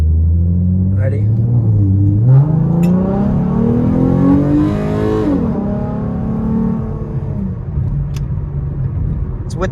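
V6 Mustang fitted with shorty headers, floored at full throttle: a loud, close engine roar climbing steadily in pitch through the gears with a brief shift dip, rumbling continuously for about ten seconds.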